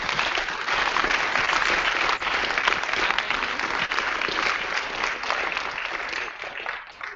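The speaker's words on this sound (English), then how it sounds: "Let's go ahead and give them a round of applause." Audience in a discussion hall giving a round of applause for the panelists, dense and loud continuous clapping that holds steady for several seconds before thinning slightly at the end.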